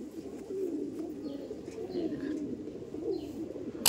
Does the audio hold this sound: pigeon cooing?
yes